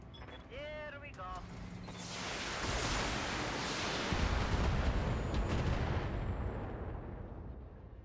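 A volley of SRM-6 missiles launching in BattleTech, a rising rushing roar that swells and holds before slowly fading, preceded by brief electronic interface tones.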